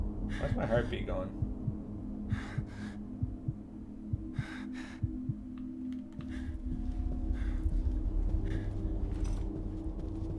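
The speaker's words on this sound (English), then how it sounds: "Where's my heartbeat going?" Heartbeat effect in The Evil Within, a low rhythmic thumping pulse running under game ambience, with short bursts of breathy sound scattered over it.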